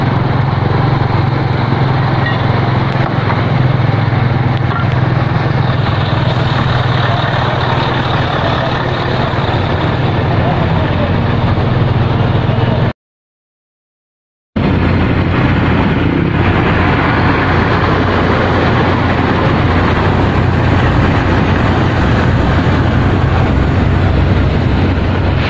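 A trailer truck engine runs steadily with a loud, continuous low rumble and broadband roar, broken by a brief dropout of total silence partway through before the engine resumes.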